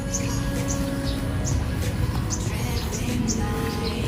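Bird calls ring out around a villa resort, a string of brief chirps repeating at intervals over a steady, rumbling ambient backdrop.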